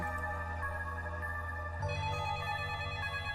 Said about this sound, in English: As soon as I got home, the phone rang.